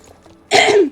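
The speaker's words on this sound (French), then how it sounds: "pendant tout le long de la vidéo je vais tousser" A single short, harsh cough bursts out loudly and close to the microphone, preceded by near silence and fading quickly afterward.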